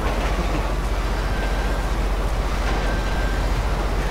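A steady, loud rumble of a train rolling along in a video game, continuous clatter and low roar with no break, no voices.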